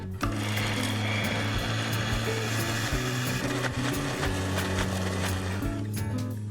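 A kitchen mixer grinds roasted onion and coconut into a fine paste, a steady droning motor whir with rattling and scraping from the jar, close and continuous.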